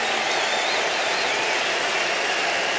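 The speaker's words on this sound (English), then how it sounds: "The home crowd with a standing ovation for a visiting player." A home baseball crowd gives a visiting player a standing ovation, sustained dense applause and cheering from a large stadium audience that holds steady and loud throughout.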